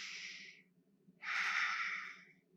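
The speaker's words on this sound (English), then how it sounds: "Now take a big deep breath how you normally would." A slow, deep breath drawn in and let out close by, two soft breathy rushes separated by a short pause over a faint low hum, with no talking.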